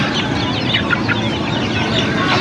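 Bangkok breed chickens cluck at a Sunday bird market in Palembang, with short clucks and chirps rising over a dense, steady hubbub of market noise.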